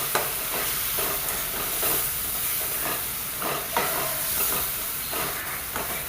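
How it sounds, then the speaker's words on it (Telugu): Green chili paste and turmeric fry in a pan for an eggplant dish, giving a steady, close sizzle broken by repeated scraping stirs. No one speaks. "మిక్సీ పట్టి పెట్టుకున్న పచ్చిమిర్చి పేస్ట్ వేసి పచ్చివాసన పోయేంత వరకు ఫ్రై చేసుకోండి"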